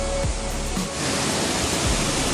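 Steady rushing water from the third falls at Amboli in the Konkan hills, a dense continuous roar filling the space up close, unbroken and without speech.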